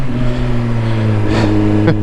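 A Suzuki GSX-R1000R sport motorcycle engine revs loudly and close by, a steady roaring drone with a brief rising surge near the end.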